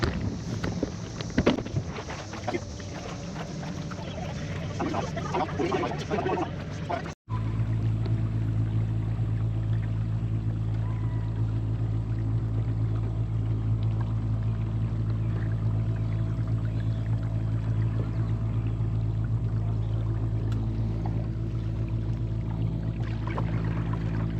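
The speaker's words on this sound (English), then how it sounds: "I'm going to show you the speed of this trolling motor setup here." Trolling motor driving a Lifetime Manta fishing kayak across the water. Wind buffets the mic and water splashes at first, then a steady, loud motor drone holds on without a break, with no talking.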